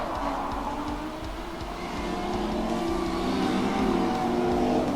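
A drift car's engine roars at a drift competition at MSR Houston, a loud sustained high-revving note that climbs steadily, heard from a distance with no talk over it.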